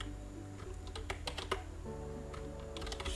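Fingers type code on a computer keyboard, a quick close run of light key clicks and taps in irregular bursts, with a low background hum.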